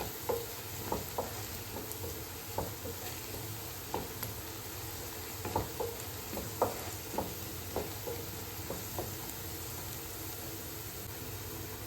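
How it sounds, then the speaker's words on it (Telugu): Onions frying with turmeric in a pan, giving a steady soft sizzle punctuated by regular spatula taps and stirring knocks close by, without any talking. "ఉల్లిపాయలు మంచిగా వేగాలి, వేగితే టేస్ట్ ఉంటుంది"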